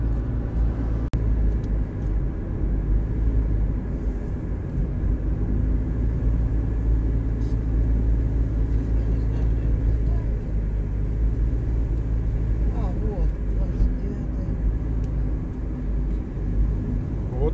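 A car drives in Montenegro toward the Croatian border. Steady, loud road rumble and engine drone fill the cabin throughout, with no break.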